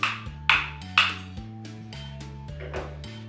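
Sharp wooden taps from rhythm sticks strike in a loose rhythm, three bright hits early then softer ones, over a steady musical backing in a kindergarten music class.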